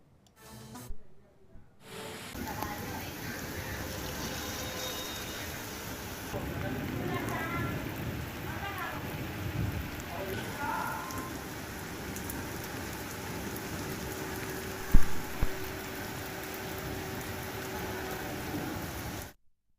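Unseasonal hail-laden rain pours over harvest-ready crops in the Krishna and NTR districts of Andhra Pradesh, giving a steady, moderate hiss of falling water. A single dull thump stands out near the end.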